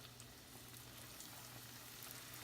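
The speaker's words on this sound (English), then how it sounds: "now that we got the fish frying" Battered catfish frying in hot oil, a steady dense sizzle with crackling pops throughout, close and even, no voices.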